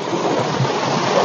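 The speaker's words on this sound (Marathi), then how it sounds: "मित्रांनो पाणी जे पडतंय त्या पाण्याचं बघा" A monsoon waterfall pours in a dense, continuous roar of falling water, loud and close with no breaks or voices.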